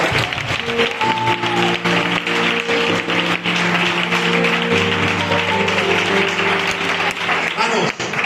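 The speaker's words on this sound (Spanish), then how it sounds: "dale un fuerte aplauso para Dios" Church congregation giving a strong round of applause during a worship service, dense continuous clapping mixed with sustained music tones and scattered voices.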